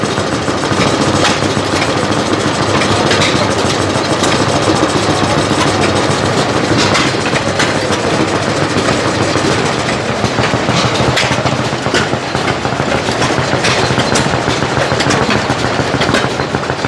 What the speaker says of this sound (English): Little bitty steam engine.